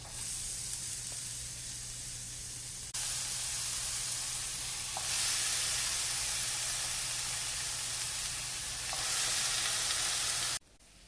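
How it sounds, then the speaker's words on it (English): Pineapple pieces fry in melted butter in a pan, giving a steady, close sizzle that swells a little louder in stages and then cuts off abruptly near the end. "In a pan I put some butter and then I added all the pineapple to it to cook them"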